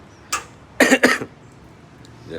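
A few close, sharp coughs: one short cough, then a quick cluster of two or three harsher coughs, with quiet room tone around them.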